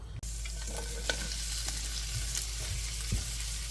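Oil sizzling in a pan as ginger, garlic, hot sauce and fresh basil infuse it for a beef stir-fry, a steady close hiss with scattered pops, crackles and a few stirring knocks.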